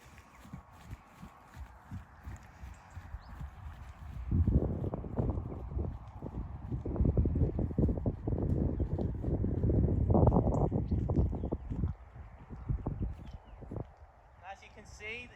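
Horse hooves trotting on a road while a rider leads a second horse alongside, a steady rhythmic clatter of many close footfalls with wind buffeting the microphone throughout.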